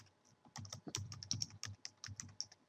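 Computer keyboard typing, a quick irregular run of soft close keystrokes, quiet and alone with no talk.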